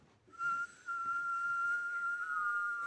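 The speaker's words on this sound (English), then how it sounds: "Whistling inward is not something a lot of people do" A thin, high inward-whistled tone, made by drawing breath in, starts with a short burst, breaks off, then holds steadily for nearly two seconds, close and fairly quiet.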